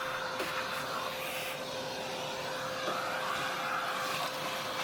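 An industrial vacuum cleaner running on the underside of a 3D printer, a steady close whooshing roar with a constant motor whine and small shifts in airflow as the nozzle moves.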